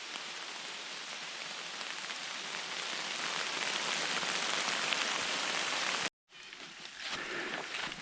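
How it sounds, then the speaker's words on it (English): Heavy rain pours onto the forest canopy above a hiker on the North Country Trail in Michigan's Upper Peninsula in October, a dense, steady, close hiss that breaks off briefly and then resumes. "At times I can hear the rain coming down rather heavily above me"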